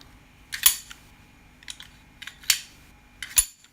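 A folding knife snapping open and shut, four sharp metallic clicks spaced about a second apart, close and crisp against a quiet background with no talking.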